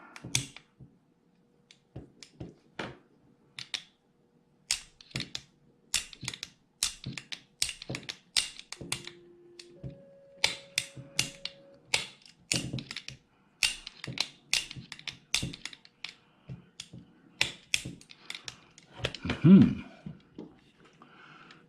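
An AR15 trigger dry-fired on the bench after a trigger job, giving sharp, isolated metallic clicks and snaps in an irregular series, close and fairly quiet, with no talk.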